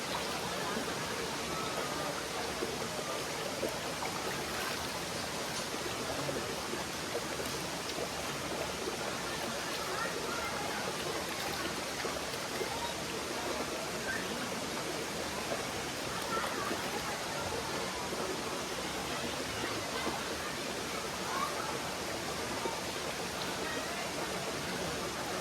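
A stream on the Girnar parikrama trail flows in a steady, close, unbroken rush of water that fills the whole stretch at a constant level.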